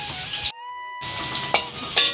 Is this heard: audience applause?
no